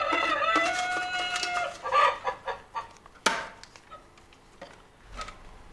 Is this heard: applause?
no